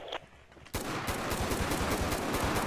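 Gunfire erupts in a GTA V shootout: after a brief quiet moment, a loud, sustained burst of rapid automatic shots keeps hammering without pause.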